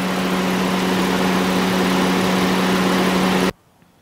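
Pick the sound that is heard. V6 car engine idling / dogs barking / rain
V6 car engine idling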